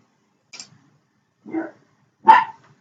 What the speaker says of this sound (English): The dog barking now.